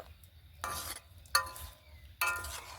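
Puli pitha dumplings are stirred through sugar syrup in a pan, three separate bursts of wet scraping and clinking, close up and otherwise quiet.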